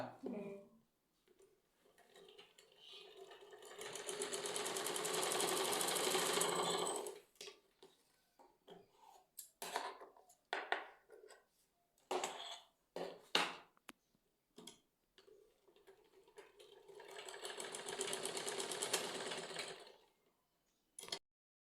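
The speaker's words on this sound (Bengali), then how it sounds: "এখানেও তাই ডবল ভাঁজ দিয়ে সেলাই করে নিব।" A sewing machine stitching double-folded fabric, two sustained whirring runs, one early and one near the end, with a voice talking and small handling noises between them.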